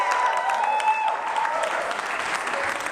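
Audience at a motivational talk in a hotel venue in Union Square, New York City, applauding steadily for about three seconds, a dense, close wash of clapping with faint whistles or cheers near the start.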